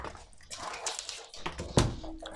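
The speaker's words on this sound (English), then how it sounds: "Somebody's just walked in the door and the dog's just barked" A dog in the next room gives a few short, muffled barks and whimpers as someone walks in the door, faint and somewhat distant, mixed with household noise.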